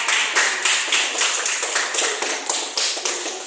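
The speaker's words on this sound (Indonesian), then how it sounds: "Kita kasih tepuk tangan" Classroom group applause after a student presentation in a religious education lesson: loud, close, rapid clapping from many hands, steady and continuous with no talk.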